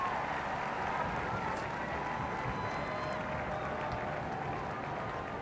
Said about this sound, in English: The armed forces giving a round of applause.